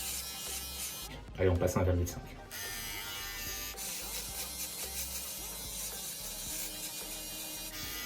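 A Philips OneBlade Pro electric shaver trimming hair, a close steady buzzing hum running throughout, briefly louder near the start while someone speaks over it.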